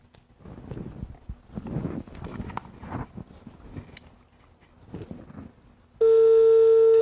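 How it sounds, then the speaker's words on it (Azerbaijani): A telephone call placed during a comedy voice-impression prank, with several seconds of muffled voices and room noise before a loud, steady ringback or dial tone cuts in near the end. "Yığırıq Sabuhiyə"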